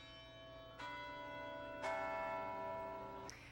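Bells of the historic Moorhead-Patterson Bell Tower at UNC ring out, three clear rich strikes spaced about a second apart, each ringing on with long resonant overtones, with no voices over them.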